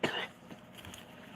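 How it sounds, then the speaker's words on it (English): A person's cough, a harsh burst at the start followed by a quieter second hack, close to the listener with no talk over it. "got this doggone cough."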